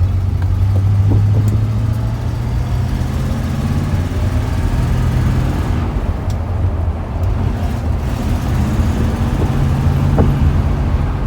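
A 1966 Ford Mustang with a four-speed manual drives along. The engine gives a steady low hum and drone with road noise around a curve, continuous and moderately loud, and no one speaks.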